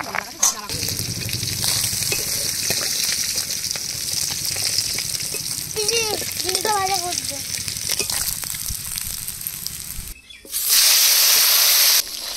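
Steady sizzling hiss of snakehead fish frying in hot oil in a village kitchen runs throughout, with a voice speaking briefly partway and a louder burst of sizzle near the end.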